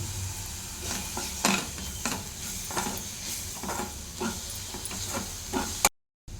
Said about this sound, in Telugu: ఇప్పుడు ఇందులో నేను అల్లం వెల్లుల్లి పేస్ట్ వేస్తున్నాను